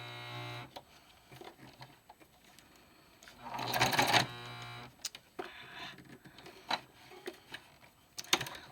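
An old sewing machine in need of servicing, used to sew blackout curtains, runs in short uneven bursts with clicks and one louder rattling spurt, nearby and without talk.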